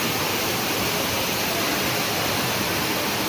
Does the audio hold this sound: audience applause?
no